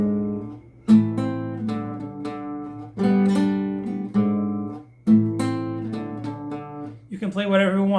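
Fingerstyle acoustic guitar plays the closing phrase of a song: a handful of plucked notes and ringing chords, each struck and left to sustain, close and clear, with a brief voice at the very end.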